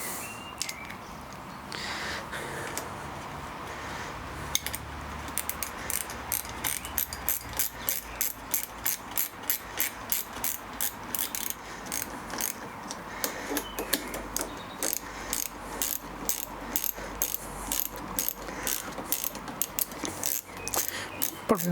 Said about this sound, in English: I know other people get their torque wrenches on, but I'm going to go click at that